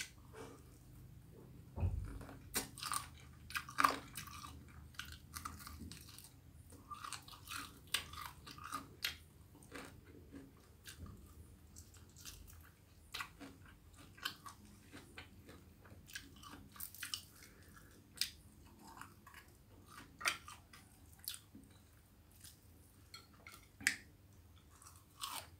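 Crunchy salted fried chicken bitten and chewed up close in an ASMR setting, with repeated crisp crunches and soft mouth sounds at an irregular pace, fairly quiet throughout with no talking.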